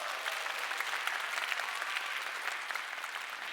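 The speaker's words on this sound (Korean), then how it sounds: "박수 쳐주세요." An audience at a stage talk applauds a student speaker, a steady, even wash of many hands clapping, moderately distant and fairly quiet, with no voices over it.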